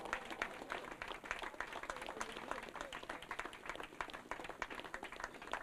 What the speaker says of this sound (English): And our title sponsor this week, let's have a round of applause, the CEO of Grand Thornton, Bharat, Vishesh